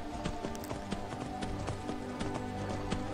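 Horse hooves gallop at a brisk, steady rhythm in The Elder Scrolls V: Skyrim while climbing a long stretch of uphill steps. The clip-clop stays clear and close over soft background game music.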